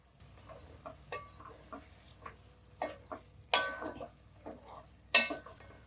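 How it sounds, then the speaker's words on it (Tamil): Eggs and fried potatoes sautéing in biryani masala in a pan for egg dum biryani, with close, repeated bursts of sizzling and spatula scrapes coming every half second or so. "ஒரு 5 நிமிஷம் முட்டையில் நல்லா மசாலா ஏறுற அளவுக்கு வதக்கிக்கோங்க"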